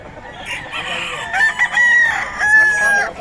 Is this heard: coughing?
no